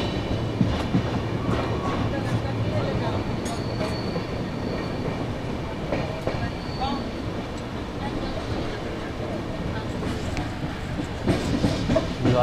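The Jaipur Bhopal Express pulling into Bhilwara station in Rajasthan at night makes a continuous close rumble with rhythmic wheel clatter over the rails and faint squeals, alongside background voices.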